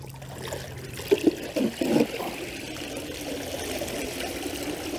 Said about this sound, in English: I let the water drain out so we don't waste a lot of water.